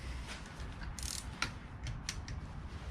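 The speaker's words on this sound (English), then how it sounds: "the force will start to turn the threaded rod" A threaded rod on a Yamaha QT50 moped being forced loose, giving a run of mechanical ratcheting clicks and metallic creaks over a steady low rumble, fairly close.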